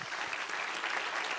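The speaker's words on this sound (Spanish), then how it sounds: "dale un aplauso al Señor" A church congregation applauds the Lord during a sermon, a brief, steady wash of clapping heard at moderate distance without speech.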